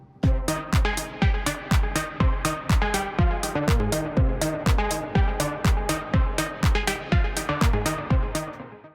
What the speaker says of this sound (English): so we created our first lead patch.